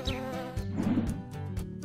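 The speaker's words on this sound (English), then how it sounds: "Bees are amazing animals." Close, steady buzzing of bees with a humming drone that rises and falls as insects move near.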